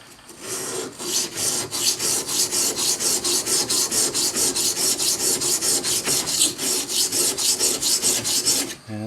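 A 1950s Record No. 4 hand plane is rubbed back and forth on the medium side of an abrasive stone, giving a steady run of rhythmic rasping strokes, loud and close with no talk.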